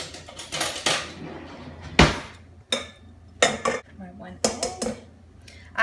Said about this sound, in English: First, I'm going to cream my butter.